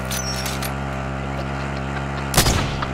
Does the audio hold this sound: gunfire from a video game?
yes